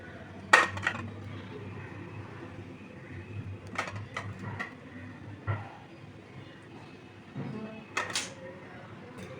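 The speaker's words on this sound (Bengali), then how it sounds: "ডিমটা একটু ছুরি দিয়ে কেটে নেব দিলে মশলাটা ভালো করে এর মধ্যে ঢুকে যাবে" A knife scores boiled eggs on a plate in a home kitchen, giving scattered light clinks and taps of metal on dish over a steady low background hum.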